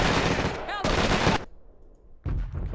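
Rapid machine gun bursts from a WWII battle at Iwo Jima in the real-time strategy game Men of War: Assault, two loud dense volleys separated by a short lull before firing resumes, with faint voices underneath.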